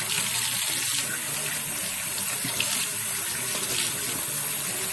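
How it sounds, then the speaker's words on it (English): Hot water runs steadily from a tap in a fleece-rinsing setup, a continuous close, even rushing splash with no pauses. "Get this water hot."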